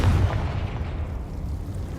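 The Confringo fire spell explodes in Hogwarts Legacy, a heavy low boom with a rumbling tail that fades out over two seconds.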